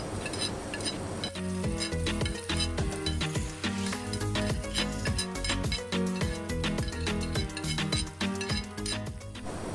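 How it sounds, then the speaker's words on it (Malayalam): Chopped vegetables for Indian-style white sauce pasta sauté in a pan on low flame, a continuous sizzle layered with rapid, repeated metal clinks and scrapes of a spoon stirring, close and busy throughout. "എല്ലാ വെജിറ്റബിൾസും നല്ലപോലെ ഒന്ന് സോർട്ട് ചെയ്തെടുക്കാം."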